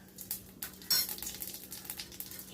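Whole cumin seeds and whole garam masala spices fry in oil in a pan, giving a steady close crackle and sizzle with a few sharp clinks of stirring against the metal.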